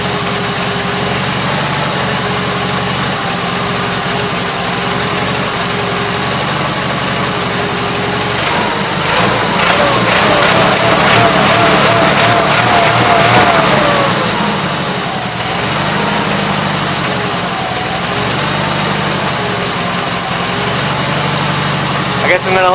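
A Gravely 8163-T garden tractor engine with an oil leak idles steadily and loud, a continuous low drone with a fluttering, rapid pulsing burst midway, while a voice talks over it at times.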